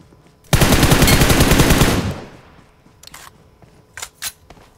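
Gunfire in a shooting video game: a loud, close burst of rapid automatic fire lasting over a second, followed by a few separate sharp shots.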